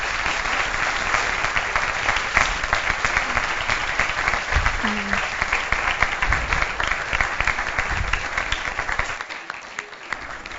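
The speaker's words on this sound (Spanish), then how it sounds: "un aplauso para Laura" An audience at a municipal talent-expo talk applauds steadily for nearly the whole stretch, a dense even clatter of many hands that thins and fades out toward the end.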